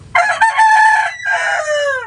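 A single rooster crows nearby, a loud, drawn-out call that breaks briefly and then trails off downward.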